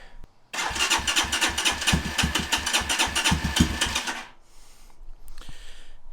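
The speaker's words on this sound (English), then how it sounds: "so let's start her up and" Kayo 230 T4 motorbike engine cranking and firing: a rapid run of rhythmic pulsing chugs for several seconds, close and loud, before settling into a quieter, uneven idle.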